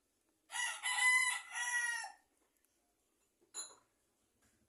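A rooster crows loudly and close by in a long drawn-out call, followed a moment later by a short cluck or squawk from a chicken nearby.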